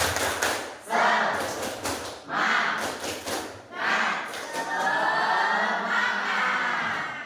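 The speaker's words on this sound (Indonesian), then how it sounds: "Kita tepuk semangat lagi, Pel." Classroom of students doing a rhythmic spirit clap, several short bursts of group clapping and thumps with pauses between, then a longer sustained stretch of clapping and crowd noise.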